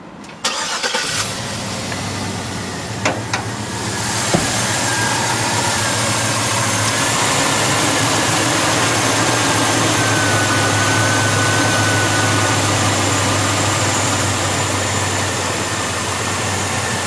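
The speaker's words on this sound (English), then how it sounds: "Let's listen to what the engine sounds like." A 2011 Chevrolet Suburban 2500 cranks and starts, then settles into a steady, loud idle with a deep hum that holds evenly to the end.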